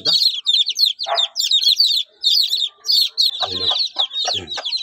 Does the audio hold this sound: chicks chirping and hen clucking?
yes